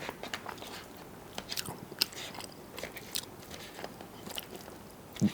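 Taco Bell kimchi fries topped with sour cream, tomatoes and nacho cheese being bitten and chewed: soft, close, quiet crunching and wet mastication with scattered crisp bites, no talking.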